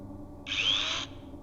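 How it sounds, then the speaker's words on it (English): A short, high whir of a small power drill running for about half a second, close by, then stopping over a faint low background hum. "I still think it's a drill."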